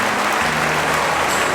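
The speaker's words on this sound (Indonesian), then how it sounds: "Tepuk tangan buat Universitas Islam Asy-Syafi'iyah" Audience applause at an Islamic gathering honouring Universitas Islam Asy-Syafi'iyah, a dense, steady wash of many clapping hands sustained loudly throughout with no voices over it.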